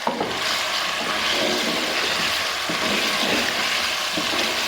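Homemade tomato paste sizzles and hisses loudly in a frying pan after it is added, a dense, steady, close frying noise with faint stirring and no talk.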